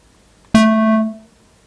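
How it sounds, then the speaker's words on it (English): A single synthesized note opens with a bright, sharp attack, then its upper harmonics quickly dull as an envelope sweeps the filter closed, leaving a mellower sustained tone that stops after about half a second, with a brief piano-like decay. "What if we also change the filter frequency with the envelope?"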